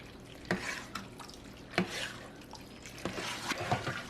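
A spoon stirs egg noodles into beef stroganoff in a pot, making a few distinct scraping clinks spaced about a second apart over soft, wet mixing sounds, close and fairly quiet, with no talk.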